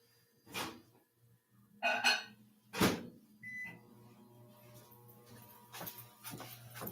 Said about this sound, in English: my coffee's in the microwave